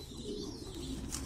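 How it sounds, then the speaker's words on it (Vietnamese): American king pigeons and Thai pigeons cooing on a pigeon farm, soft low coos heard faintly over a quiet background with a few higher chirps, no talking. "Đây là hai con chim bồ câu gà Mỹ và bồ câu Thái này."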